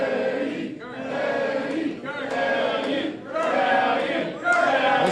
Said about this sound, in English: This capacity crowd here in Collinsville, Illinois is a rising surge behind Eddie.